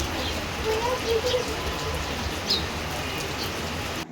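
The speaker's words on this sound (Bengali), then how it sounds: "আমরা এখানে বৃষ্টি হচ্ছে বলে তো একটু বসে আছি" Steady rain falls at a seaside resort in Digha, a dense even hiss of drops on surfaces with a brief bird call partway through.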